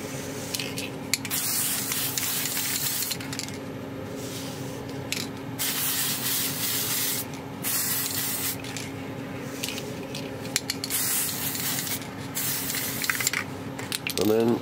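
Aerosol spray paint applied as a second coat to a gear for a steampunk motorised kraken gauge kit, heard as repeated hissing bursts of spray with short pauses between them, close and fairly steady.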